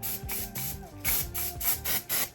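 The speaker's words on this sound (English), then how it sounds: "let me go ahead and spray it" Rapid, rhythmic spritzes of a trigger spray bottle onto a lace wig, about eight quick pumps in a row, close and fairly quiet.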